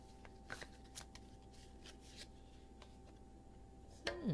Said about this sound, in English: Let's pull the first group of cards for,